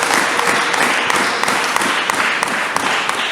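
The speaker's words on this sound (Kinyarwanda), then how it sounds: "mubampera amashyi ariko" Applause from a church congregation greeting the Mothers Union women's group: a steady, dense wash of many hands clapping together, loud and sustained throughout without pause.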